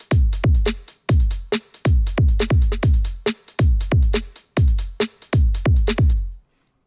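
A punchy electronic beat: booming, pitch-dropping kicks and snappy snare hits with crisp hi-hat ticks, repeating in a tight loop before stopping.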